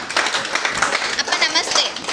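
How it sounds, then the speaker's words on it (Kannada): An audience claps loudly in a dense, continuous burst of many hands, filling the whole moment close up. "ಎಲ್ಲೊಮ್ಮೆ ಜೋರಾಗಿ ಚಪ್ಪಾಳೆ ಕೊಡಿ"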